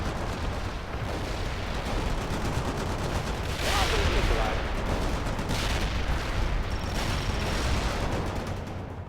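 Dense gunfire and artillery blasts from the World in Conflict video game rumble continuously, with rapid bursts and heavier booms swelling near the middle over a thick battle din.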